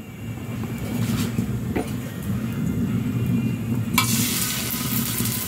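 White onion sautéing in a pan for corned beef lumpia: a steady low rumbling hum under a gentle hiss, with a brighter, louder sizzle flaring up for the last second or so.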